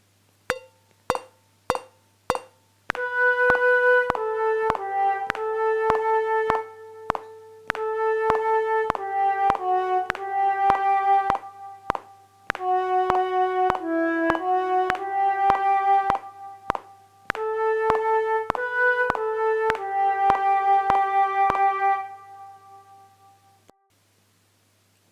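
An oboe plays a steady exam piece at mezzo forte, opening with a few metronome-like clicks and then sustained, singing melodic phrases with brief breaths between them, close and clear, fading out at the end.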